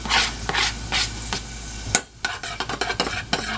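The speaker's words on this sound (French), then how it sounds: "on va aller mettre nos oignons à griller" Onions frying in a pan, heard as a steady close sizzle with scraping stirring strokes and sharp clinks of a utensil against the pan.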